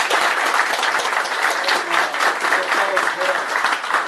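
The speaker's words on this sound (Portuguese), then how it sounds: "Palmas para o que vem." Sustained applause from the crowd at a Workers' Party political rally in São José, Santa Catarina, a thick, even wash of many hands clapping close by, with faint voices mixed in underneath.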